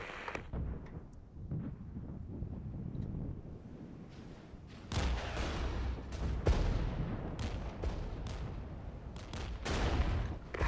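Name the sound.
artillery strikes and gunfire in a video game (Regiments)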